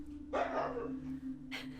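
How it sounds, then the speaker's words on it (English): A dog on security camera footage gives a couple of short, fairly faint barks, spaced apart over a low steady background hum. "He's barking and looking everywhere."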